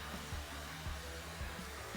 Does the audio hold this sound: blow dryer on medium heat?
yes